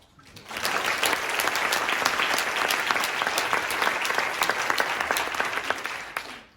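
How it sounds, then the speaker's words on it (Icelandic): An audience claps steadily for several seconds, a dense, even patter of many hands that swells in and then fades out at the end. "Ekki bara ágætt að klappa?"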